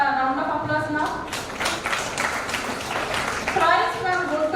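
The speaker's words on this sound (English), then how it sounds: "Can we give a round of applause now?" Audience at a brain-disorders symposium applauds, a dense burst of clapping rising after a spoken introduction and lasting a few seconds before talk resumes.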